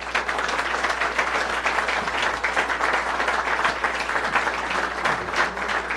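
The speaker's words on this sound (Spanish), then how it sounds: "solicitar un caluroso aplauso para nuestros invitados a esta sesión" Steady, fairly distant applause from an audience welcoming guests at a political theory lecture session, a continuous wash of clapping that holds level throughout with no voices standing out.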